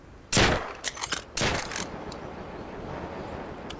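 Gunshots from the survival game Rust crack out in a Battle Royale match, a sharp burst followed by a quick cluster of shots and then a fading tail of quieter ambient noise, with no talking.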